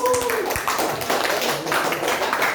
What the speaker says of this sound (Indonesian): Ya, bagus, kasih tepuk.